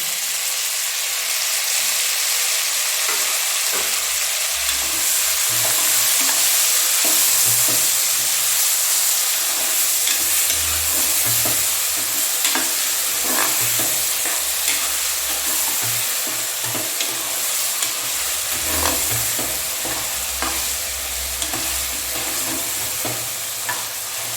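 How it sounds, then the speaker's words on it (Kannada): Masala-stuffed brinjals fry in oil for enne badanekai, a loud continuous sizzle and hiss with scattered crackles and occasional stirring scrapes throughout. "ಆ ಬದನೆಕಾಯಿನ ಫಸ್ಟ್ ಹಾಕ್ಕೊಂಡು ಸ್ವಲ್ಪ ಒಂದು 2 ನಿಮಿಷ ಅಷ್ಟು ಆಯಿಲಲ್ಲೇ ಫ್ರೈ ಮಾಡ್ಕೊಂಡು"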